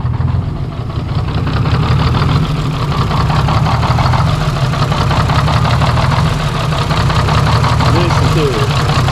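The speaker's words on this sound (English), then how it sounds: "First time this old Detroit's cranked since 1995." An old Detroit Diesel 6-71 engine idles steadily after its first start since 1995, a continuous low rumble with faint knocking that runs loud and unbroken throughout, with voices speaking faintly underneath.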